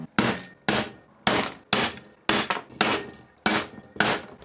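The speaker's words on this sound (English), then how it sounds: "I'm now going to use a bigger punch to make them even bigger so the drill bit just falls into that hole" Eight sharp metallic strikes ring out at a steady rhythm, each a hammer blow on a larger punch enlarging marks for drill holes, with a brief ringing decay.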